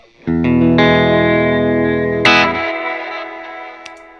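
A distorted electric guitar chord rings out through a Quad Cortex effects pedalboard, sustaining with a shimmer, then a second strum cuts in and decays into echoey tail.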